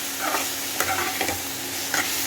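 Ground cumin, chili and coriander powder stirred into a hot pan for a hilsa and pointed gourd dish, with close scraping strokes over a soft continuous sizzle and a few sharper spoon scrapes.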